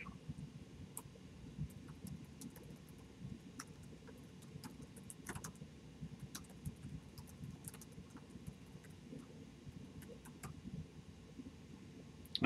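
Soft, quick clicks patter irregularly over a faint background hum, like keys being tapped on a keyboard, quiet and close.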